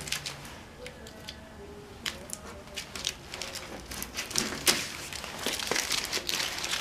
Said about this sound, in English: I actually should take the tape off right now.